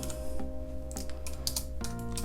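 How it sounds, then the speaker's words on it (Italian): Rapid keystrokes on a computer keyboard as PHP code is entered, a close, steady patter of clicks with short pauses over a low constant hum. "vado a scrivere Tizio,"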